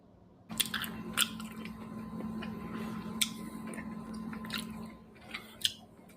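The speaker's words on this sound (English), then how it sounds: "Oh my God, that's a lot of chewing." Someone chews a small bite of food, with close, repeated wet crunches and clicks in an irregular rhythm over a steady low hum, with no talking.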